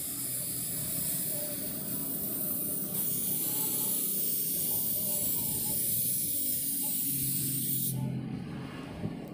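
Liquid rubber waterproof coating sprayed onto a cracked wall, a steady close hiss of fine spray running continuously with a slight change in tone near the end.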